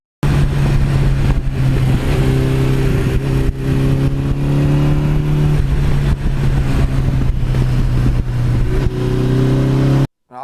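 A 1982 Suzuki GS1100E motorcycle fitted with a replica exhaust revs loud and close, a steady rumbling idle rising into repeated throttle blips, then cutting off near the end.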